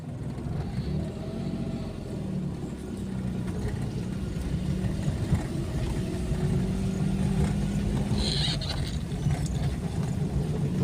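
A car pulls away in first gear along a highway, its engine and road noise a moderate, steady drone that swells slightly as it drives.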